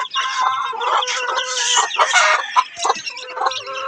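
A flock of live chickens clucks and squawks nearby, with overlapping calls and a rooster crowing among them, busy and continuous.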